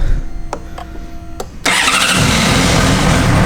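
A Honda CBR600 sport motorcycle cranks with a few brief starter clicks, then catches and settles into a loud, steady close-up idle.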